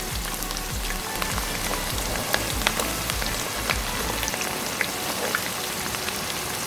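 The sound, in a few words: red onions sizzling as they are sautéed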